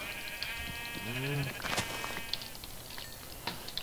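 Minecraft sheep on a French survival server, giving a short bleat amid quiet game ambience, with footsteps and small clicks around it.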